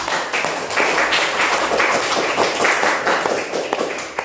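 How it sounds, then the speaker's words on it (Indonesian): A class group claps for another group at a school learning session. The clapping is loud and close, with a busy mix of individual hand claps and some thumps, continuing without speech for a few seconds. "tepuk tangan buat kelompok 3"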